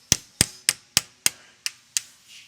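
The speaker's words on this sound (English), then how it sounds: "stick the pliers in the eyelet of it and hammer it out" Seven sharp metallic hammer blows strike pliers set in the eyelet of a wheel hub part on a CFMOTO UForce U10 Pro side-by-side, evenly spaced, close and ringing briefly, the last blows slightly softer.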